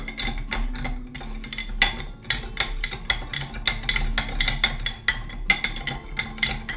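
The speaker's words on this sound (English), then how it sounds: "So we're gonna go ahead and give that another stir." Ice cubes clink and rattle rhythmically against a glass as an Old Fashioned whiskey drink is stirred, a steady run of close, sharp knocks with brief pauses and no talk.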